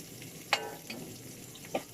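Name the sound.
onion frying in a pan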